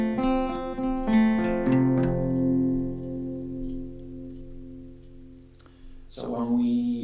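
A fretted string instrument strums a major chord, rich harmonic strings ringing with several strokes early, a long sustained decay, then a fresh strum near the end; close and moderately loud.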